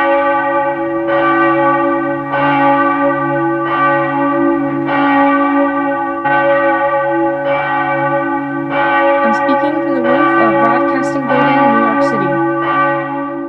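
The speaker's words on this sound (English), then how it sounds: "The bells you hear are ringing to warn the people to evacuate the city as the Martians approach." Church bells in New York City ring a loud, steady series of evenly spaced tolls as an evacuation warning, with a wavering tone rising faintly near the end.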